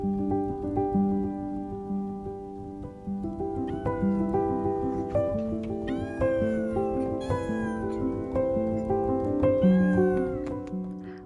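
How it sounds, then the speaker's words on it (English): Several village cats meowing on a quiet morning in a rural village in Konya province, Turkey, with repeated calls over a steady background and no talk. "a few curious cats hurried around to welcome us"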